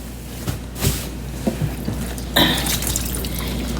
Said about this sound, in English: I drip off the water